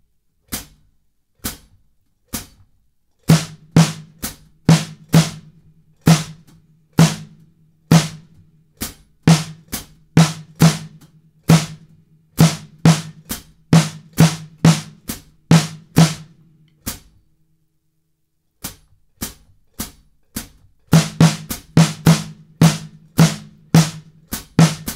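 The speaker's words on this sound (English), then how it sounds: "I'll keep quarter notes on the hi-hat and then play the rhythm." A drum kit plays a syncopated rhythm over steady quarter notes on the hi-hat, crisp close strikes with lower drum hits between, a brief pause mid-way, then the pattern resumes and thickens toward the end.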